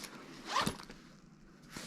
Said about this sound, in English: And there's also still one more zipper.